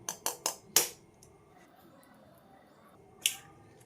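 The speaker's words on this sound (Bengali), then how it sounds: "এবার ডিমটাকে ফাটিয়ে নেব।" An egg is cracked in a quiet kitchen: four quick, sharp taps come in a tight burst at the start, then after a pause a single crisp crack follows.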